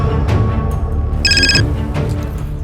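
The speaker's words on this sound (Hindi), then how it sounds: "साहब 11 तारीख की दोपहर को मेरी बहन का फिर से फोन आया" A telephone gives a single short burst of bright electronic ringing partway through a dramatized crime scene, heard over a steady background bed of sound.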